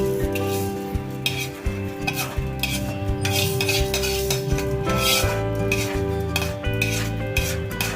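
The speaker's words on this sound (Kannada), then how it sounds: "ಈಗ ಉದ್ದಿನಬೇಳೆ, ಒಂಚೂರು ಕೊಬ್ಬರಿ ಎಣ್ಣೆ ಹಾಕ್ಕೊಳ್ಳಿ. ಇದು ಘಮ ಬರೋವರೆಗೂ ಹುರ್ಕೊಳ್ಳಿ." Urad dal roasting in coconut oil in a pan for Udupi-style sambar powder, a steady close sizzle with repeated scraping and stirring clinks of a spoon against the pan throughout.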